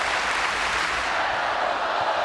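A crowd cheers and applauds at an NCAA volleyball regional final between Oregon and Minnesota, a dense, continuous roar held at steady loudness across the whole moment.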